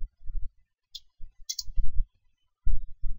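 Typing on a computer keyboard, a few short clusters of soft key clicks and taps with brief pauses between them, close and quiet with no talking.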